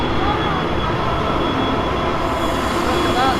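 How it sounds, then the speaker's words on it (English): At a Universal Studios Orlando Harry Potter attraction, a train rumbles steadily past close by, with continuous rolling wheel noise and faint squeals throughout. "Look at that train."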